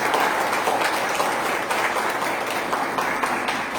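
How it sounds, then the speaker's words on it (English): A temple congregation at a Sunday morning service gives a steady round of applause, even and continuous clapping from many hands with no pause throughout. "Please give them a round of applause"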